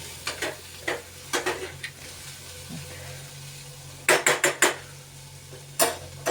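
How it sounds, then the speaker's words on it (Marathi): Bitter gourd being stirred in a pan: a spatula scrapes and clatters in short bursts and quick clusters, with a faint sizzle underneath and no talking. "इकडं कारलं पण परतून घेऊ राहिली आहे"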